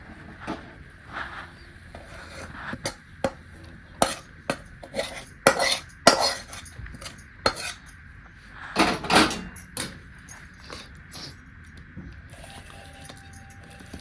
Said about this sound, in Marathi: मी खाली एका ताटाला तूप लावलेलं त्या ताटामध्ये सगळं काढून घेते